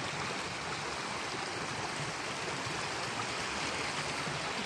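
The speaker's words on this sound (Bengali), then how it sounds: "এই বরফ গলা জল এই ড্রেন দিয়েই বেরিয়ে যাচ্ছে, এখানে গিয়ে নদীতে মিশেছে," Plentiful snowmelt water rushes through a drain toward a river in snowy Aru Valley, Kashmir, making a steady, full roar of flowing water with no breaks.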